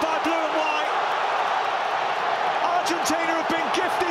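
A dense, steady roar from a stadium crowd in Lusail, mostly Argentina fans celebrating a goal against Croatia. The noise fills the whole moment with a commentator talking over it.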